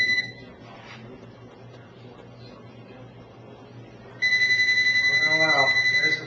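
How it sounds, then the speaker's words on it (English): A telephone rings on and off for a few seconds in a quiet room, coming in abruptly with a bright trilling tone after a stretch of low background noise. "there's the phone, but I can't answer it"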